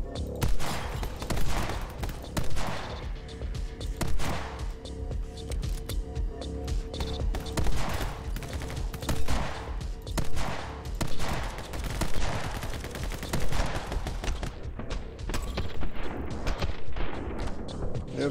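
Enemies in My Friend Pedro fire rapid volleys of gunshots, with dense repeated cracks of fusillade running steadily throughout at close range and loud.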